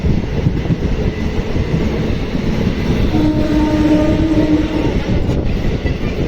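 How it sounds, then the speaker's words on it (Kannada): A DEMU express passenger train arriving at Koppal station rumbles loudly nearby with a continuous heavy roar and wheel noise, and a drawn-out horn-like tone sounds midway. "ನಮ್ಮ ಟ್ರೈನ್ ಕೊಪ್ಪಳಕ್ಕೆ ಬಂತು ನೋಡ್ರಿ"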